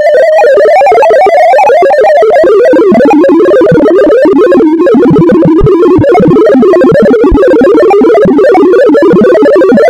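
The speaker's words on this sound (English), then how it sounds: "Each single data event is sonified as a single sound, so we can hear the light curve" Sonified astronomical transit light curve rendered as a dense, continuous swarm of short synthetic tones, each data event its own sound, forming a loud, busy warbling texture that dips in combined pitch over ten seconds.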